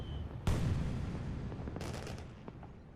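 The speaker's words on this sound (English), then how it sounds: "worst fireworks show ever" Fireworks explosions in the Final Fantasy XII game: a sharp loud boom followed by a long rumbling decay, then a cluster of crackling pops and a smaller late burst.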